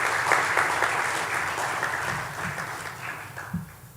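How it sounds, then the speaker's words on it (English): Applause for facilitators at a recognition ceremony, a round of steady clapping from an audience that tapers off over about four seconds. "Let's give all of the facilitators a round of applause."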